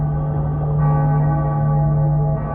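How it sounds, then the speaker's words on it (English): Cracked bells in Cyberpunk 2077 give off a loud, sustained, eerie atonal clang that rings steadily throughout with a dense metallic drone. "Bells were cracked too. Gave off this eerie, atonal clang."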